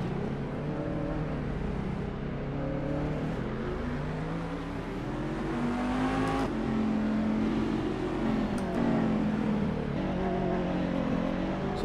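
A Cadillac DPi prototype race car in Assetto Corsa drones at high revs, its engine note climbing and falling through gear changes in a steady, close, continuous roar.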